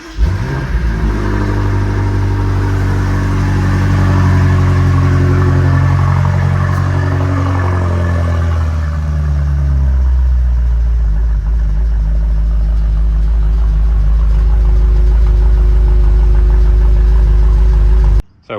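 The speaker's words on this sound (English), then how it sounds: "So now I'll start the car and show you guys how it sounds." A BMW F90 M5 fitted with secondary downpipes cranks and fires up loudly close by, flaring in revs before dropping into a deep, steady, rumbling idle that continues to the end, with no talk.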